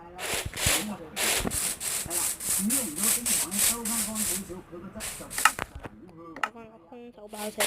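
Bare hands punch a wooden block in the Minecraft video game, a rapid run of scratchy, rhythmic hits that stop and start, while a person talks over them.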